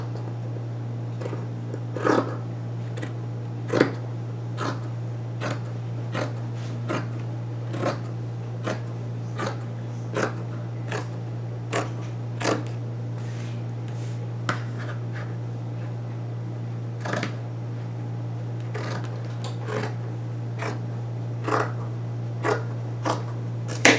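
Scissors cut through a cotton t-shirt in a long series of crisp, evenly spaced snips, about twenty over the stretch, close and clear over a steady low background hum.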